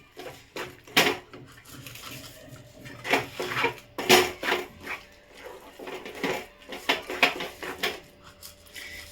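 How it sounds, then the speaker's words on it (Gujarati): A sweet coconut mixture (topra pak) being stirred in a pan, with repeated scraping and knocking of a spoon against the metal in an irregular rhythm, close and fairly loud, with no talking. "પછી કન્ટિન્યુ એને આવી રીતે હલાવતા રહેવાનું"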